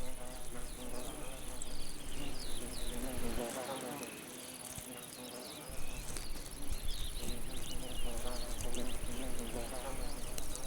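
A steady, dense buzzing of many hoverflies close by, in the Alps, continuous throughout with a brief dip in the middle, no voices.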